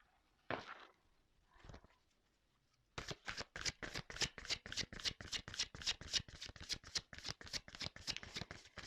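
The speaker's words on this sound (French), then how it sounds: "On va prendre d'autres cartes." Tarot cards being shuffled close up: a couple of soft brushing handlings, then a quick, rhythmic run of crisp flicking riffles that continues to the end.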